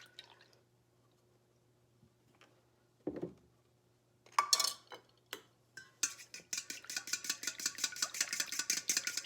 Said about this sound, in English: I'm going to actually whisk up the almond milk with the eggs